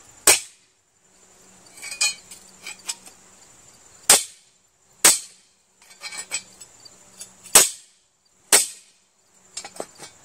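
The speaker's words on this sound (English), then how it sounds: "Yes, I know I'm banging it on my Belgian block." Heavy sledgehammer blows striking a Belgian block paving stone, sharp ringing impacts roughly every second with scraping and clinking between them, close and loud.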